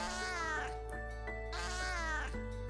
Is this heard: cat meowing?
yes